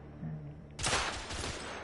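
A burst of rapid gunfire from The Order: 1886 erupts suddenly and stays loud, rattling shots crowding together after a quieter stretch of game ambience.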